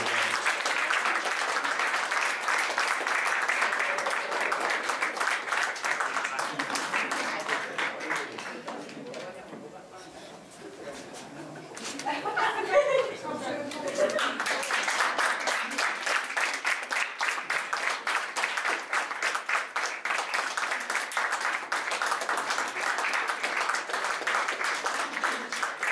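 Applause from the crowd at an award party, a long, fairly distant run of many hands clapping that dips briefly midway, then swells again, with voices mixed in.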